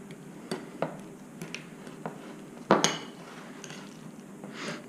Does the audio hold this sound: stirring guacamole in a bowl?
yes